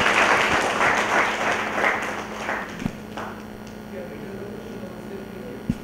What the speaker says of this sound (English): Can I have a round of applause for Professor Chawla?